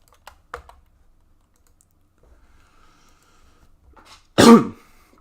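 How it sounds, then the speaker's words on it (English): A single sharp, loud cough bursts out near the end after quiet stretches of faint keyboard clicks and a soft throat sound. "Still got the coughs again"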